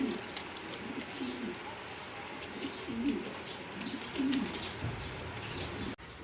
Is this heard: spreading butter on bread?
no